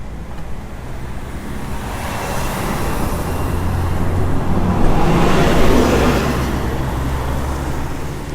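Road traffic passes on a Jerusalem street in a continuous rushing roar, with one vehicle swelling louder as it goes by near the middle before the noise eases again.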